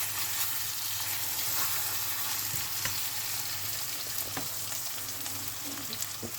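Sausages braising in buttery onion gravy over low heat bubble and pop steadily in a pan, a continuous close sizzle with scattered small crackles throughout.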